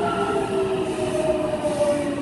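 A local commuter train bound for Nishi-Akashi pulls into the inner-track platform of a four-track line during morning rush, with wheel squeal tones and rolling rumble close by and no voices.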